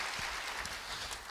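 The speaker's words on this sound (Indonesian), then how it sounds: "Yang senang beri tepuk tangan bagi dia." A church congregation claps during a sermon, making a brief, dense burst of mixed hand claps at moderate distance.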